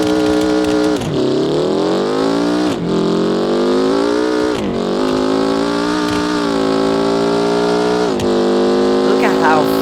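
A Lada Kalina's engine revs steadily and loud in the BeamNG.Drive driving game, pitch climbing through several upshifts with brief dips between gears, continuous and close.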